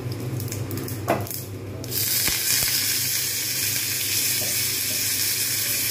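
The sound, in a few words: curry leaves frying in pan while being stirred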